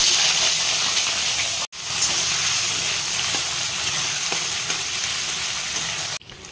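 Potatoes for aloo posto dropped into hot oil with kalonji, a loud continuous sizzle and crackle of frying close by, with a couple of brief breaks.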